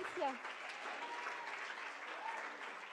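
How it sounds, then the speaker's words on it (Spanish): Audience applause fills a summit hall after a music act, a steady wash of clapping at moderate level with a brief voice at the start. "Excelente, aplausos."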